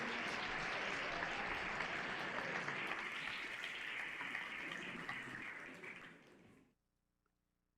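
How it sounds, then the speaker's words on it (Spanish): A church congregation applauds the children with steady, dense clapping that fills the room for several seconds, then stops abruptly and leaves near silence. "Denle un aplauso a los niños y al ministerio."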